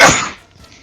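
A single sharp sneeze-like burst at the start, loud and close, quickly trailing off into quiet room noise.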